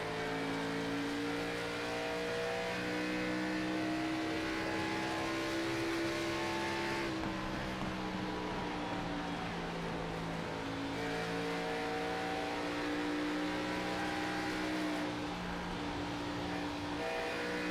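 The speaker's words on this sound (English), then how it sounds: "you can hear that throttle fluctuate" Onboard Chevrolet Camaro race car at Darlington, its engine note steady and loud throughout with throttle rising and dipping as the car works through traffic, harmonics sliding up and down with each lift and squeeze.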